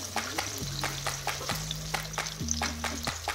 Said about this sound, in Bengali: তেলটা গরম হয়ে গেছে, এখন রসুনগুলোকে দিয়ে দিচ্ছি।